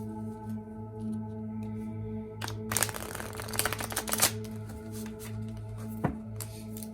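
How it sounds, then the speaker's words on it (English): Tarot and oracle cards being shuffled by hand, a dense riffling burst in the middle of the clip over steady background music, with a few lighter card taps before and after. "One thing I hate, you guys, is shuffling because of my nails."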